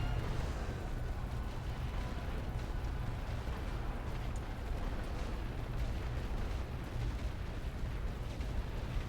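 Heavy artillery fire in The Great War: Western Front video game, a dense continuous low rumble of distant shelling and blasts filling the whole stretch without pause, no voices over it.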